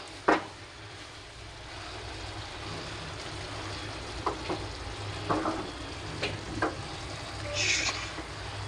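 Dried loitta fish and eggplant frying in oil with garlic, a soft steady sizzle with scattered pops and faint clinks, fairly quiet and without talk.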